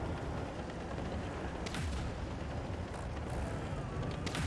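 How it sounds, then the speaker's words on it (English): A tank cannon shot in World of Tanks Blitz lands against a steady background of engine rumble and noise, giving a deep boom with a few sharper cracks spread across the clip. "Nice shot here on the T110 E5 with a max roll."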